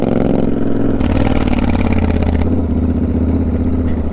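A Royal Enfield GT 650 twin-cylinder motorcycle rumbles loudly and close while riding, its steady engine drone shifting as the throttle changes, with no talk over it.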